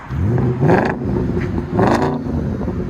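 A 2008 Audi S5 with a 4.2L V8 and a muffler delete revs hard twice, its deep, raspy exhaust surging and settling between the pulls, loud and close, with no talking.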